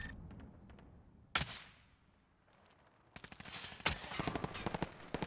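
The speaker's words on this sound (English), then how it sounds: "That sniper rifle's rubbish." Sniper rifle and other gunfire in Call of Duty Modern Warfare 2019: sharp single cracks, then a rapid burst of shots building toward the end, loud against quiet game ambience.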